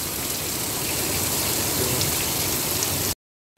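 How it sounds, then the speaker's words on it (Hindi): Heavy rain pours down outdoors in a dense, steady hiss of drops hitting surfaces, loud and unbroken for about three seconds before cutting off abruptly. "देखो कितनी तेज बारिश हो रही है"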